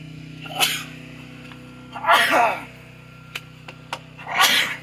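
A single loud sneeze from a man on an outdoor wooden deck construction site, followed by a second sneeze and short voices, over a steady low hum.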